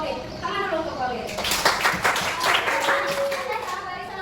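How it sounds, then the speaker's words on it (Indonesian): Classroom of pupils clapping for a student who read aloud: a burst of hand claps rises after a teacher's voice, sustained for a few seconds at moderate loudness with talk over it. "Tepuk tangan dulu untuk Pauline."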